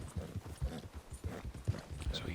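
Horse hooves plodding through snow in Red Dead Online, a steady clip-clop rhythm of soft, muffled thuds at a slowed walking pace, close and moderately loud with no talk over it.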